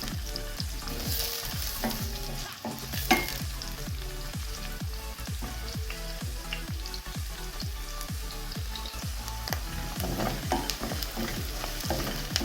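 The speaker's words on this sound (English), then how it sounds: "Cook the onions till golden brown." Onions fry and sizzle in a pan while being stirred for vegetable rice, steady crackling oil broken by regular scraping strokes of the spoon, close and with no one talking.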